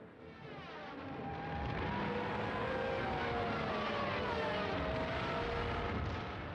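Propeller aircraft engines drone steadily overhead during an air attack on Berlin in World War II, a loud, sustained roar that swells after the first second and holds with wavering pitch, no voices heard.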